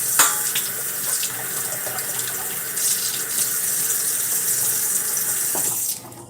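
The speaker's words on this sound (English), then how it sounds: "just waiting for the water to warm up." Hot water gushes steadily from a kitchen tap into a sink, close and fairly loud, a continuous hiss and splash that cuts off abruptly near the end with no talking.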